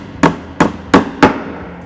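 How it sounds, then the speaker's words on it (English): Four sharp hammer taps driving a protruding nail head into timber cladding, evenly spaced and crisp, each a short close knock with a quick decay, no talking. "If the nail head is sticking out, it's not a problem, just tap it in."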